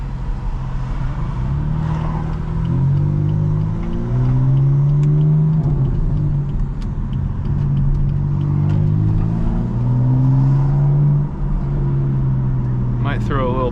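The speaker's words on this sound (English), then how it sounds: "Downshifts just sound so good in this car." Steady, loud drone of a tuned BMW M4 (F82) engine with rising and falling revs as it downshifts, continuous throughout, with a brief sharp burst near the end.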